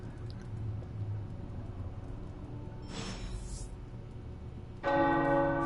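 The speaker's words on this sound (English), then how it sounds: "The tower bells are ringing." Tower bells ring in the game Midnight Suns, entering a few seconds in as a loud, bright, sustained peal with ringing overtones above a steady low ambient bed; a short swishing burst comes just before.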